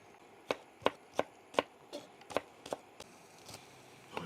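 A knife splits garlic leeks open on a chopping board with about a dozen sharp, evenly spaced cuts, close and crisp, with no talking.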